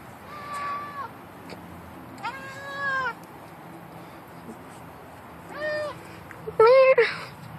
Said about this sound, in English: You're still meowing?